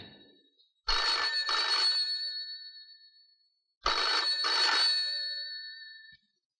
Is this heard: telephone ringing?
yes